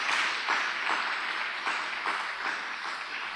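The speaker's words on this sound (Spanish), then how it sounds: "Démosle un fuerte aplauso a ese Dios." A congregation gives a strong round of applause, bright steady clapping that holds at an even level for a few seconds with no talk over it.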